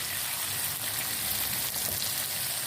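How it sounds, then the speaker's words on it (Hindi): Green chillies sizzle steadily in hot oil in a pan, a continuous close frying hiss with no talk. "थोड़ी देर हम इनको फ्राई करेंगे।"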